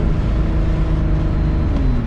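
An 800 hp turbocharged Nissan G35 engine drones loudly and continuously from inside the car as it downshifts, its pitch sliding slightly downward near the end.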